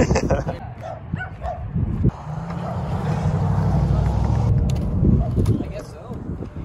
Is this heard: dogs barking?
yes